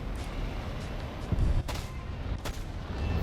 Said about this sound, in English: So let's just quickly go for a gun run on him.